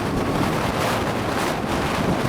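Dense, steady wind roar buffets the rider while a 2019 Honda CBR500R motorcycle travels at speed above 110 km/h, loud and continuous and drowning out other sound.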